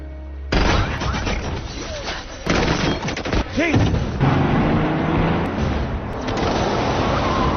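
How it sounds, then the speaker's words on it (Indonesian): Rapid burst of gunfire from the Penguin in a Batman film scene, loud and dense, a sustained volley with sharp cracks and booms over chaotic action noise. "Penguin akhirnya memergoki Bruce dan Selina, kemudian memberondong mereka dengan puluhan peluru"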